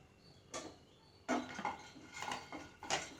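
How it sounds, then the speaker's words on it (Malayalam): Pumpkin seeds dropped into a hot pan for roasting while making a healthy laddu, giving a few separate rattling clatters and scrapes, fairly quiet and close, with no talk. "ഈ മത്തൻ്റെ കുരു അങ്ങോട്ട് ഇട്ട് കൊടുക്കാം."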